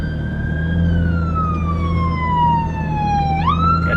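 An ambulance siren wails loudly and steadily, its pitch sliding down as it passes before jumping back up, with no talking over it.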